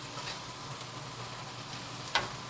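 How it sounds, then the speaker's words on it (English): Pork sizzling in a pan on high heat, a soft, steady frying hiss with a faint tick or clink near the end, quiet and alone. "it's on high heat right now, and I'm gonna leave it on that because the cold meat cools down the pan"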